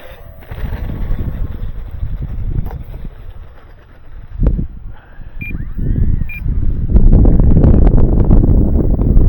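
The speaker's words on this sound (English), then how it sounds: "Of course, now the wind's picked up a little bit." Gusty wind buffets the microphone at an airfield, a steady low rumble that swells stronger toward the end, with a few brief beeps and some chirps mixed in.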